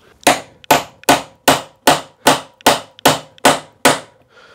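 Sharp metal-on-metal hammer blows drive a punch against a seized tailgate hinge pin on a Smart ForTwo, ten evenly spaced strikes in a steady rhythm, close and loud with nothing else heard.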